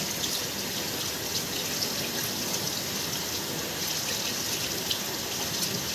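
Water running steadily from a tap while hair is rinsed at home during a hair spa treatment, a constant close hiss and splash with faint drips and no talking.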